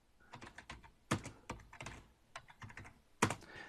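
Keys clacking on a computer keyboard as a Linux command is entered, in quick uneven bursts with a few heavier strokes, close and fairly quiet.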